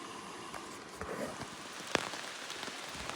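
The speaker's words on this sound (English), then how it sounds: "Now we're hanging out under the tarp because it started raining again." Steady rain patters on a surface overheard from beneath a tarp on a motorcycle trip through the North Carolina and Georgia mountains, a constant dense hiss with a few louder drops and one sharp tap near the middle, no talking.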